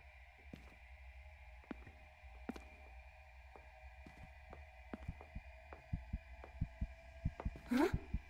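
Heartbeat warning cue from the video game Crimson Snow, a steady run of low thuds that grows louder and quicker toward the end, over a constant droning hum, with a brief rising tone near the close.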